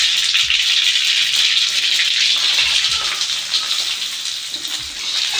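Onions dropped into hot oil with panch phoron for a drumstick curry, giving a loud, steady broadband sizzle and hiss that fills the whole stretch, with faint low clanks of a utensil beneath.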